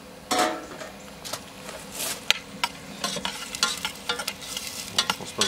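Finely diced onion and carrot sautéing in a pan, with a soft sizzle under quick, close spatula taps and scrapes that come faster and busier toward the end.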